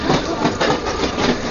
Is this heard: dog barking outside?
no